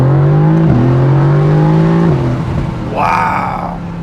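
Mercedes-AMG GT C with its V8 accelerating hard from up close, a loud steady engine drone that climbs and dips through gear changes, then a brief higher-pitched whine or squeal near the end.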